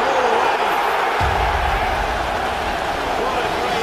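Rugby stadium crowd roaring continuously as a try is scored, a loud broad wash of cheering that swells after the first second, with a commentator's voice over it.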